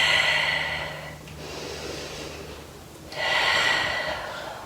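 Steady, audible breathing through the nose and mouth while holding a half moon yoga pose at a wall, with two long, airy breath cycles separated by a softer pause.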